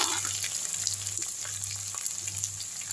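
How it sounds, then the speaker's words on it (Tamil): Onions fry in hot oil for radish thokku, giving a continuous close crackling sizzle over a low, steady hum. Nobody speaks. "அடுத்து வெங்காயத்தை எடுத்து போட்டுடலாம் வெங்காயம் நல்லா வதங்கட்டும்"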